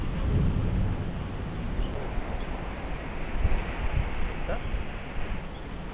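Strong outdoor wind by a riverside buffets the microphone in a continuous low roar, with gusts rising and falling and faint voices underneath.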